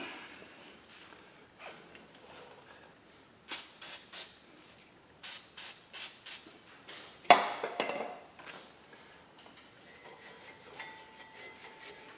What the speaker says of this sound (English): got to spray that.